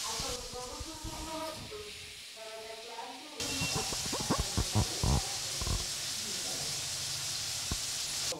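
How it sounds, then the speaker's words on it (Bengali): Potato pieces coated in salt and turmeric fry in hot oil with a loud hissing sizzle and scattered pops, while people talk over the cooking. "এই আলুটি কিন্তু ভেজে নিচ্ছেন"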